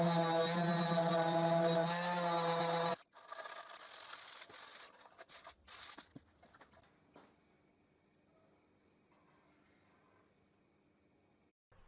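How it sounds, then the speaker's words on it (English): A wooden box with splined miter joints being sanded by hand with medium and then fine grit sandpaper, giving close, steady rubbing strokes that thin out and fade. A pigeon coos clearly beforehand. "now I can use medium grit sandpaper and then fine grit sandpaper to sand"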